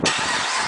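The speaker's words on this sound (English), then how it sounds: "let's go ahead and demonstrate the remote start for you" A 2011 Chevrolet Camaro SS V8, locked and started by remote, fires up with a quick crank and an immediate loud, close engine catch that settles into a steady rumble.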